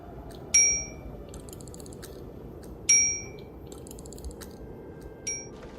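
A small reception desk bell, struck by a little automaton, dings three times with bright ringing tones that fade, the last one softer, over a low steady background hum.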